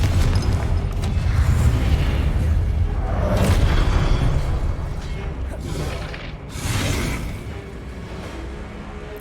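A Confringo blasting spell explodes in the Hogwarts Legacy video game, with booming bursts and whooshes over busy game noise, someone talking through it.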